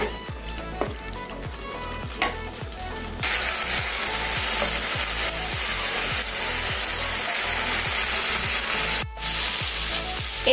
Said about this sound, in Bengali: এইভাবে বিনা ঢেকে এই মাংসটাকে নেড়ে চেড়ে রান্না করব 5-7 মিনিটের জন্য